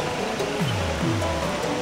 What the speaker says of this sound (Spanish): Cascada.